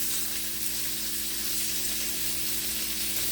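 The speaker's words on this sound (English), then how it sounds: "Go ahead and turn it on this bottom and let it sear there as well." A beef filet searing in a hot pan, producing a loud, continuous, hissing sizzle that stays steady and close with no talking.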